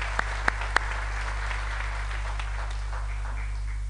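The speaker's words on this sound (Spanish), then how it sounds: "nuestro agradecimiento se lo enviamos a través de un cariñoso y fuerte aplauso" An audience at a contest event applauds, producing a soft, steady patter of clapping over a constant low electrical hum, with a few sharper claps near the start.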